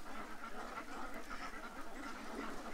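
Frightened ducks quack in a dense, steady chorus, many birds calling at once at moderate distance with no clear single voice standing out.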